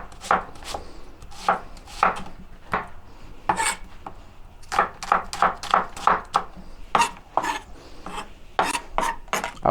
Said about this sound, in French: je vais simplement couper mes oignons en tranches